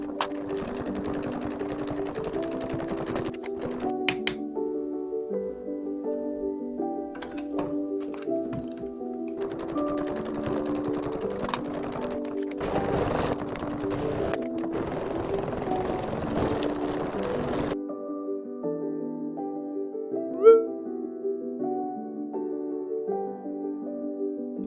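A sewing machine runs in long continuous bursts, stitching a 0.5 cm seam around the whole edge of fabric for a flat pouch, steady and close with short pauses between runs and no talk.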